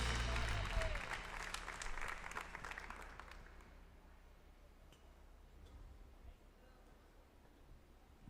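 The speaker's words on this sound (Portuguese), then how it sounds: "Aplauda o Senhor." Clapping from a congregation during a church worship service is loudest at the start and gradually fades over several seconds into a quiet room tone.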